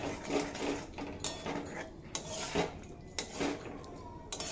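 Paneer fried earlier is stirred with spices and cashew-poppy paste in a pan, giving close, irregular scraping and clinking of a spatula against metal in short bursts, with no talk.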